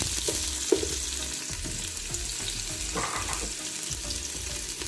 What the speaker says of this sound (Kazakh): Ең алдымен қызыған майымызға пиязымызды саламыз.